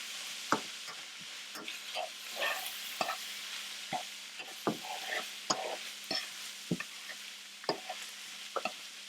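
Spoon stirring flour into sizzling ground beef mixture in a pan for shepherd's pie, with repeated scraping strokes and clinks over a steady low fry, close and fairly quiet.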